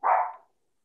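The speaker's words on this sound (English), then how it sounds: "So while Chris is dealing with the barking dog" A dog gives one short single bark, close and fairly loud, that fades out quickly into silence.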